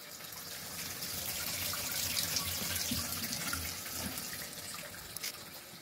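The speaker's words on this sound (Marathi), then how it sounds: "हे बघा मी पाईप लावलाय टाकीत." Water runs steadily from a hose pipe into a storage tank at home on a winter night, a continuous close rushing splash with no talk over it.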